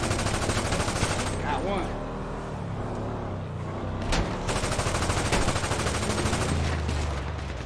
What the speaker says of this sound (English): I'm just shooting. I can't hit nobody.